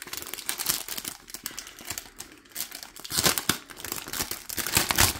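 Plastic packaging of a Vaiana-themed cross stitch bookmark kit crinkles and crackles as it is opened up close, a dense, irregular stream of rustling with louder bursts toward the end and no voices.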